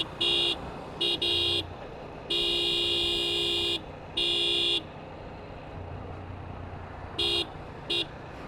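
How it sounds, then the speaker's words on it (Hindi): A car horn honks in a run of short and longer blasts with irregular gaps, loud and close over steady road traffic noise during a tense road rage encounter. "मैंने भी हॉर्न मारना स्टार्ट किया"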